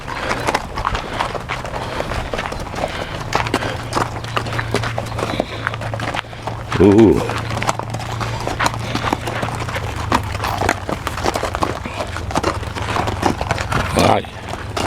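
Horse hooves clip-clop in a steady walking rhythm at a ranch in Tucson, Arizona, close and continuous, with a brief vocal exclamation and background chatter alongside.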